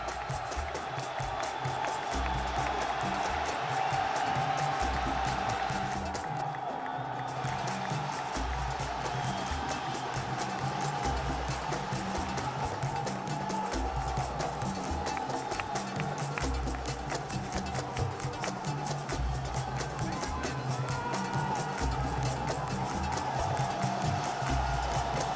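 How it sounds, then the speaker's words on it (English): A large esports arena crowd roars and cheers for the Evil Geniuses team, a dense, sustained wall of loud noise with constant rumble and no break in the din. "It's time to hear the crowd for Evil Geniuses."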